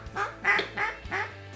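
Ducks give a quick run of four or five loud, close, nasal quacks, the short pre-notes of a calling sequence, heard in a duck-hunting setting with no voices.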